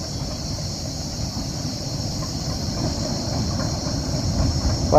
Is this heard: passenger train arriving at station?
yes